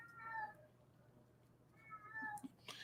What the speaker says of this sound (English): That's my cat. This is of course meowing.